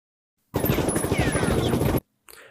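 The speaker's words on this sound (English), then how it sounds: "We now wish to add parts of this track containing gunshot sound to the first video." Rapid burst of gunshots used as a sound effect on a video editing track, a dense rattling volley lasting about a second and a half, followed by a brief fainter echo of fire.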